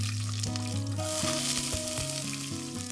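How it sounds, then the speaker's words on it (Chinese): Whole peeled garlic cloves frying in oil in a hot clay pot, a bright continuous sizzle with faint bubbling and crackle, close and steady, no talking. "砂锅烧热，倒入食用油，加入整个去皮蒜粒"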